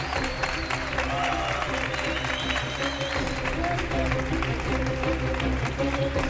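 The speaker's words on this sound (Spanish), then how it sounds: "os pido un aplauso para que se note que estamos aquí" Audience applause fills an evening show at the Magic Internacional in Barcelona: a dense, steady wash of clapping that holds for the whole stretch without a break, with crowd murmur mixed in.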